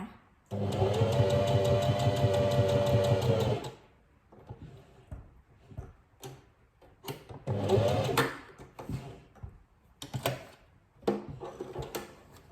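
Sewing machine stitching a buttonhole in fabric, a loud fast whirring burst of about three seconds, then quiet handling clicks and a second shorter stitching run, close-up with no talk.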